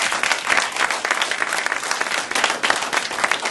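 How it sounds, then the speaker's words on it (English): An audience gives a steady, loud round of applause for Brother Kush the Black Unified, dense clapping filling the room for the whole stretch with no voice on top. "Let's give another round of applause for Brother Kush the Black Unified"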